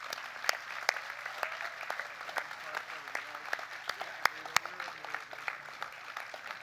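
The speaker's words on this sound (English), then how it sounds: "One more round of applause, please, for all of our speakers." A small audience at a rally applauds the speakers. The claps are sparse and individual, spread over several seconds and heard from a moderate distance.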